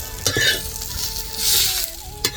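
Spices dry-roasting in a pan for a homemade Maharashtrian shevga masala, giving a steady close sizzle and crackle with a few sharp clinks of stirring, alone without talk.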